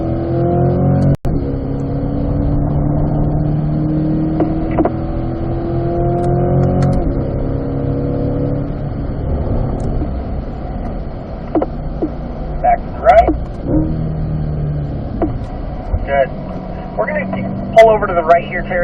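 A Chevrolet C8 Corvette runs a race track during a lead/follow session, its engine droning and rising through gear changes, heard from inside the car beneath an instructor's steady spoken coaching.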